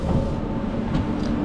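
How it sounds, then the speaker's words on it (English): Metro-style train on the Moscow Central Circle, rumbling steadily and loudly up close at a station platform, with a constant broadband roar and faint wheel clatter throughout and no talking. "There's a train on the other side"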